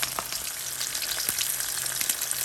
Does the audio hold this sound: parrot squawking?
no